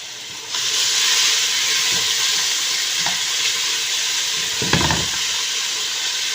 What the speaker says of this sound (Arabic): احنا هنا هنصفر البصله مش هنحمرها قوي